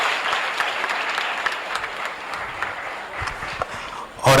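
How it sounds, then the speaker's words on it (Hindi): An audience applauds at a Hindi humor poetry festival in Jamshedpur, a continuous wash of clapping from a crowd that holds steady for a few seconds before tapering off. "इस चौथे श्रीनाथ हिंदी महाउत्सव में श्रीनाथ कॉलेज ऑफ एजुकेशन के लिए एक जोरदार तालियों का सलाम आप सबों के तरफ से"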